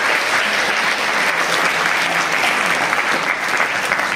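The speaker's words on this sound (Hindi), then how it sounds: "जोरदार तालियां इन सबके लिए" Loud, sustained applause from a school gathering in Fatehabad honoring students' JEE Mains 2024 results, a dense steady wash of many hands clapping throughout with no gaps.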